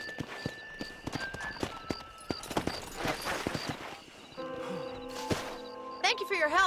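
Horse hooves in the Red Dead Redemption video game clip-clop at a steady walking rhythm and close by, with game music and tones layered over them and a voice speaking in places.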